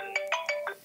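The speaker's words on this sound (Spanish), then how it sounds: "Apaga el teléfono de Roberto" Mobile phone ringtone chiming in four quick bright electronic pulses, close and clear, with no talk over it.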